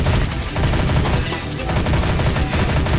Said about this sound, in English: I just picked up a grenade, so we're gonna throw one in here